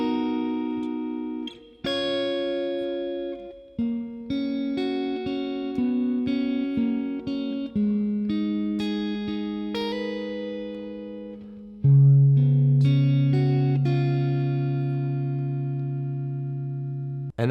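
Acoustic-style guitar playing the bridge section of a song, a sequence of plucked notes and strummed chords ringing out in clear, separate phrases, played alone and close with no voices.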